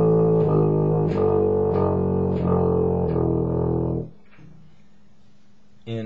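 Tuba sounding a series of sustained low notes, each fingered with a different valve combination and the lowest played with all valves down; about five notes in steady succession, close and loud, then stopping around four seconds in.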